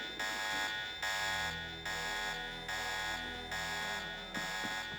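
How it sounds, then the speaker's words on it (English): A blaring alarm in the Deus Ex video game sounds in steady, loud, repeating pulses, about five blasts less than a second apart, with no other sound. "The alarm is gonna go away in just a minute"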